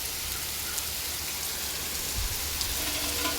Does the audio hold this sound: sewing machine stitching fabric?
no